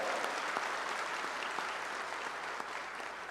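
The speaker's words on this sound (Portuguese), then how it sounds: "Aplaude com força, tomando posse da graça de Deus na tua vida." A church congregation applauds vigorously during a Portuguese-language religious talk; dense, sustained clapping from a large crowd in a reverberant hall, steady throughout.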